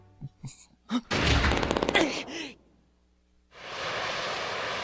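A short burst of rapid enemy gunfire in the Panzer Dragoon Saga video game, with whooshing bursts before it and a steady roar of rushing noise afterward.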